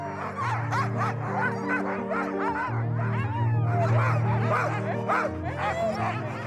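A pack of Greenland sled dogs barks, yips and howls all at once, a loud continuous chorus close by.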